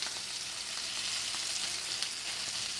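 A tuna patty fries in a skillet, the sizzle continuous and even at close range, fairly soft, with faint crackles scattered throughout and no talking.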